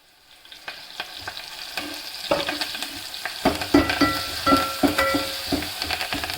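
Curry leaves sizzle in hot oil for upma, a crackling fry that builds as a spoon scrapes and stirs the pan in quick, irregular clicks close by.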